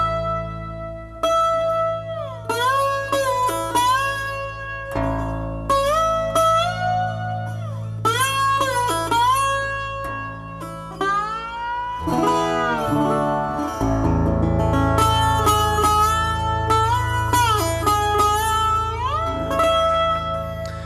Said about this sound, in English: 8-string baritone tricone resonator